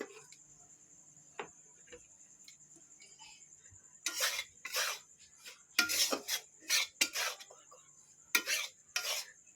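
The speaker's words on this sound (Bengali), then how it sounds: "আমি চালের গুঁড়িটা ভালো করে ভেজে নিচ্ছি" Irregular bursts of scraping and stirring as rice flour dry-roasts in a pan, close by, with short pauses between strokes and a faint steady whine in the background.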